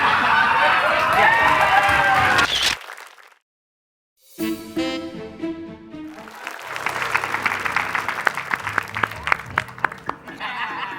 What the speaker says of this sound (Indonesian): Wajar tepuk tangan